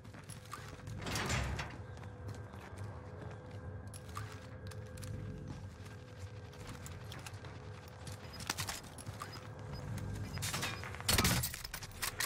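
Bursts of gunfire in the video game Call of Duty: Warzone crackle intermittently over a steady mechanical hum, with louder volleys near the start and end.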